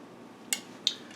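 Crispy tofu fry sticks gently stirred in a pot, giving two brief, light clinks about a third of a second apart over a quiet background.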